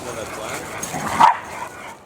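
Dogs, including a Rottweiler, yip and bark in short excited bursts while playing roughly, with a sharper yelp near the middle and a person talking over them.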